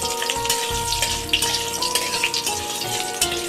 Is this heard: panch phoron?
yes